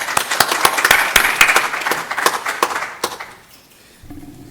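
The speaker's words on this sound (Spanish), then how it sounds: "Muchas gracias, lo recibimos con un fuerte aplauso." A crowd claps steadily at an international academic colloquium on Andean and Amazonian epistemologies. The dense, fairly loud applause lasts about three seconds, then fades out quickly into a quiet room.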